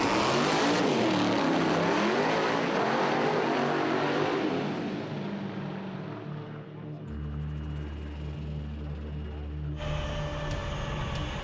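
A drag racing car roars hard down the track, its loud engine and exhaust blast gradually fading into the distance, followed by a lower steady hum at the end.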